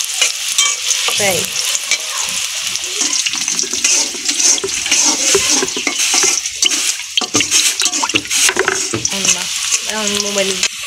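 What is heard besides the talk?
cooking sounds, frying and stirring in a pan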